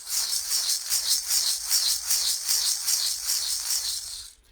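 Ceremonial rattle spun steadily, making a fast, even, hissing shake that pulses in regular waves, fairly faint and alone before cutting off.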